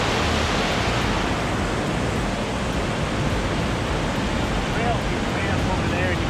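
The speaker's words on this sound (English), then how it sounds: "The sound of rushing water coming." Rushing water of a waterfall at Pattison State Park, heard as a dense, continuous broadband roar that stays steady and fairly loud for the whole stretch with no other sounds standing out.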